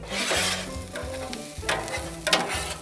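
Onions sizzling on a new grill ahead of skirt steak, a loud close crackling sizzle with rhythmic bursts and spatters over a low background hum, no talking.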